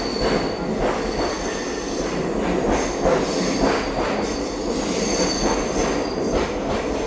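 West Coast Superfast Express passenger train on the Mangalore to Chennai run, heard from a second-class sleeper coach, rolls steadily along the rails with a constant loud rumble, faint rhythmic wheel clatter and a thin squeal from the wheels.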